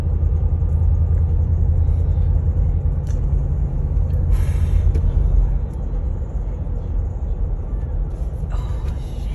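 Car cruising at 50 mph through a 35 mph zone, giving a loud, steady low engine and road rumble that eases slightly midway, with faint cabin noises and no talk.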